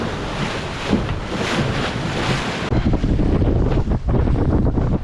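Strong wind roars and buffets the microphone aboard a sailboat racing in a spring regatta off Carolina, with water rushing past the hull; the gusting is loud and continuous, growing heavier partway through, with no talk.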